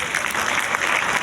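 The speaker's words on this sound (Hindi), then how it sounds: "तो भाई हमारे पास सर हसीब के लिए भाई तालियां हो जाए।" Audience applause for Sir Haseeb at a student hackathon session, a steady burst of many hands clapping close by, dense and even throughout with no talk over it.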